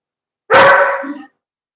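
A pet dog gives one loud, close bark with a brief whimpering tail, then silence.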